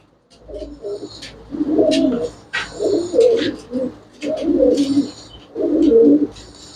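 Thalla pigeons coo in five rolling, throaty bursts, each lasting about a second with short gaps between, close and fairly loud over a faint background hiss.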